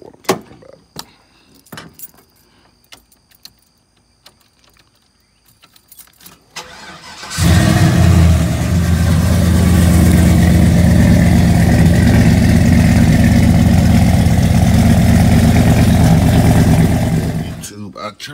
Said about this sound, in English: let me crank it up so I can show y'all what I'm talking about